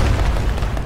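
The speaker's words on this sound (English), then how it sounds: "tank saw me in the fucking little bunker and just shot one into the bunker" A tank shell slams into a small bunker in the WWII shooter game Post Scriptum, a heavy, loud, rumbling blast with dense low-end boom filling the whole short burst.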